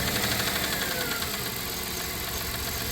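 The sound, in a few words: 1997 Dodge Caravan engine running after misfire clears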